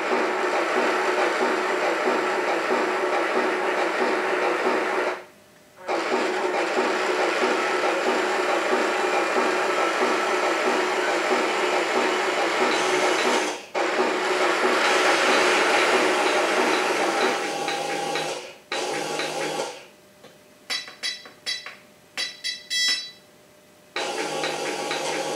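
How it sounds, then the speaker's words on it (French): Turret of a radio-controlled Panther tank model turning with its engine off: a continuous whirring electric motor and gear drone, steady and close, pausing briefly a few times before stuttering in short bursts at the end. "Maintenant, la rotation de la tourelle moteur éteint,"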